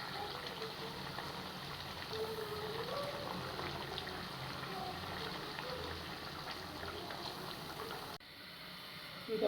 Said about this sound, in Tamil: நம்ம குழம்பு நல்லா கொதிச்சிருச்சுங்க